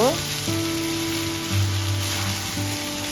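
Vegetable fried rice sizzles in a pan while sugar is stirred in, a steady close frying hiss with faint scraping underneath.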